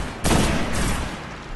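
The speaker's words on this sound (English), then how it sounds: "Take him out with the sniper." A single sharp sniper rifle shot in the game Destiny on the moon, loud and sudden, followed by a ringing tail and a second fainter crack.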